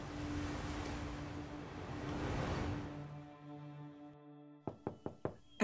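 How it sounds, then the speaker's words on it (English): Four quick, hollow knocks rap on a front door after a swell of ocean-like wash and low droning tones fades out, the knocks close and evenly spaced. "And there was a knock on the front door."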